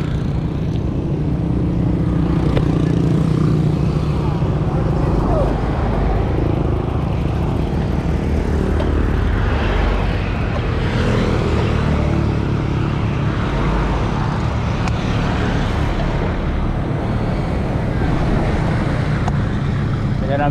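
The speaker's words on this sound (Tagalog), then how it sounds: "Morning, traffic na tayo." Morning road traffic in Dagupan with passing cars and motorcycles, a constant engine rumble and whooshing heard from a ride along the road, with people talking over it.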